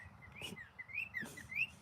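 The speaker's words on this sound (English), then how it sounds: "You listening to the birds tweeting?" Birds chirp and tweet outdoors in short whistled calls, about four bright phrases spaced over two seconds, with a low steady rumble beneath.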